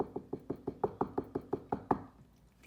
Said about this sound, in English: Suddenly, there was a knock on the castle door.